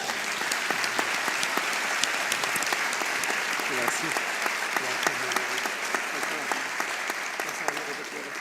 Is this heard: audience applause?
yes